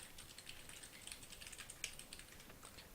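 A password being typed on a computer keyboard, with quiet, rapid, uneven key taps clicking steadily and faintly, alone without talk.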